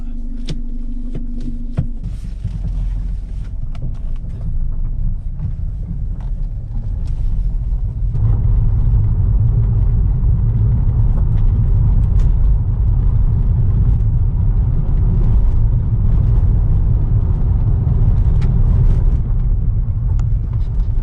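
A Mercedes car engine warming up idles with a steady low rumble and hum, growing fuller and louder after a few seconds as it settles into a continuous throb.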